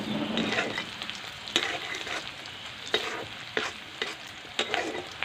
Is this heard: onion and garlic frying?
yes